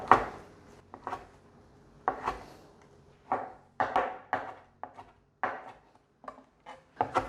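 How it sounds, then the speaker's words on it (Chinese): A knife slicing shiitake mushrooms on a cutting board, a series of crisp, close chopping strokes, single and in quick pairs, separated by short quiet gaps, with no talking. "现在把这个香菇继续切片"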